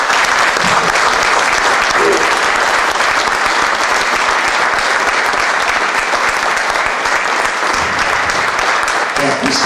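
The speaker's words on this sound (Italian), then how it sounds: "io vi chiedo un piccolo applauso per Stefano Breccia" An audience at a 2012 UFO symposium in Italy applauds for Stefano Breccia, loud dense clapping that holds steady for the whole stretch, with a few voices mixed in.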